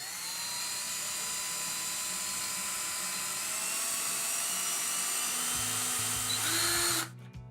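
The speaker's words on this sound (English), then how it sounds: "Now it's time to drill." A power drill fitted with a 1/8-inch bit bores into a wooden wall stud while a towel ring is being mounted, giving a loud, steady, high whine for about seven seconds before it cuts off abruptly.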